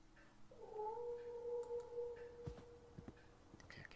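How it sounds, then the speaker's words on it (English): In the horror game The Last Door, a cat lets out one long, drawn-out shriek that sounds distant and echoing through a house, followed by a few faint clicks and taps in a quiet, hushed space. "And that sound, the kind of shrieking cat, is the last thing I want to be hearing"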